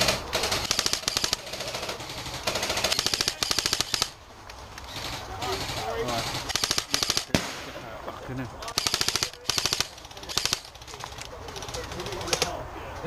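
Rapid bursts of airsoft gunfire crackle through an outdoor skirmish game, repeated rattling volleys near and far with pauses between, while players talk over the shooting.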